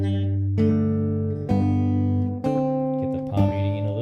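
A guitar picks the nursery rhyme I'm a Little Teapot slowly in fingerstyle, with a steady bass note under a few plucked melody notes, clear and close.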